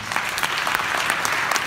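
A crowd at the opening gala of the 50th FFAP congress in Nancy claps loudly and steadily, a dense, even wash of many hands with no break and no voices.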